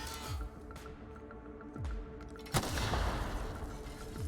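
A faster-firing gun in The Outer Worlds lets off scattered shots and booms amid game noise, fairly faint, with one sharper blast standing out.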